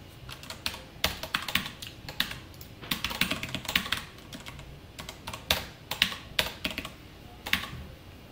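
Code being typed on a computer keyboard during a C programming lesson: steady, close clicking keystrokes in irregular bursts with brief pauses, with no talking over them.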